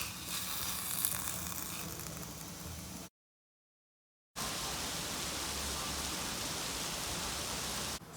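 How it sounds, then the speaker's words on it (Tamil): Steady rain falls in Singapore as a dense, even hiss, loud and close, cut by a short silent gap before resuming. "சிங்கப்பூரில் இப்போ மழை பெய்யுறது."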